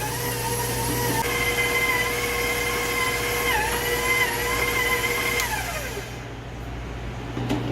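A stand mixer runs at speed 4 kneading pizza dough, a steady motor whine with a shifting pitch that drops toward the end, loud and alone without talk.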